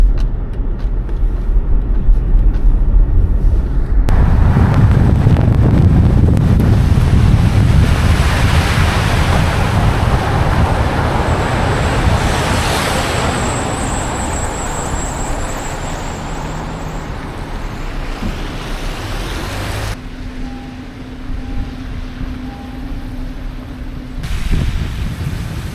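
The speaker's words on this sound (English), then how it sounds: "And when I mentioned traffic, this is Interstate 55." Traffic on Interstate 55 in a Chicago winter makes a continuous, loud roar of passing vehicles, with wind buffeting the microphone throughout and no voices.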